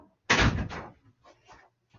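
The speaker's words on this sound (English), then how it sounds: "Someone was knocking on my door." Knocking on a home door: one loud, close thud is followed by a few fainter, scattered taps in an otherwise quiet room.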